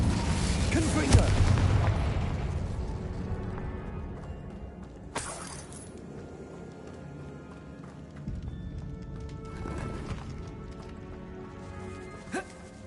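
A Confringo blasting spell goes off in Hogwarts Legacy, heard as sharp bursts over a dense game soundscape, with a loud boom near the start and further broadband blasts around the middle and end.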